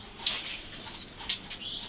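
Pigeons flap their wings in short bursts as food is put out for them, with a few faint chirps mixed in, all fairly quiet and close.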